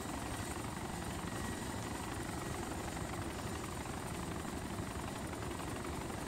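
An Mi-17 helicopter in a combat video game thumps with rapid, continuous rotor chop and engine roar, a dense, steady wash of sound that fills the whole stretch without any voices.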